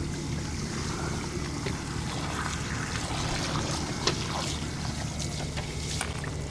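Simulated heavy downpour from a hose running over a concrete patio into a cut channel drain, a steady rushing wash of water with spattering and trickling, continuous and close.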